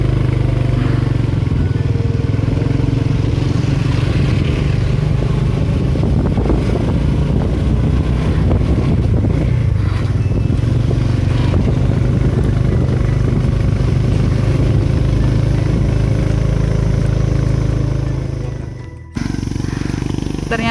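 A motorcycle engine labors loudly and steadily as it strains up a hill, a dense rumbling drone that holds for most of the ride before cutting off abruptly near the end.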